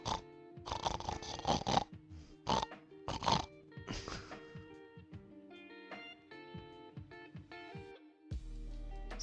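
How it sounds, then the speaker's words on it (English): Kids snoring together with rough, snorting, grunt-like breaths in irregular bursts, fairly close and moderately quiet, separated by short pauses with soft background noise. "They sleeping in unison. Like, they snoring in unison."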